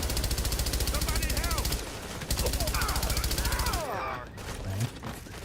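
Rapid automatic gunfire from The Division 2 rattles in dense sustained bursts, then breaks into scattered single shots, with game voices calling out over the shooting.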